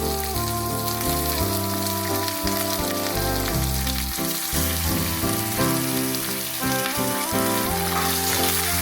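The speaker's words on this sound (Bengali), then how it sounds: "মাংসটা পেঁয়াজের সঙ্গে ভালো করে ভেজে নিতে হবে।" About 500 grams of chicken fries with onions in a pan for a Calcutta-style chicken curry, a constant sizzle beneath loud music that plays throughout.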